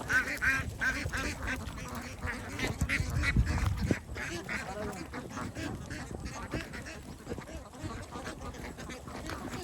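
A flock of ducks on a duck farm quacks continuously, a busy overlapping chatter close by, with some faint voices mixed in.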